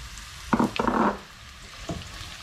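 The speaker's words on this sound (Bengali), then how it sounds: "আমি এখন অনিয়নটা দিয়ে দিচ্ছি" Onion dropped into hot oil in a pan sends up a short burst of sizzling and frying hiss, strongest for about half a second, then a fainter later flare, close and without talk.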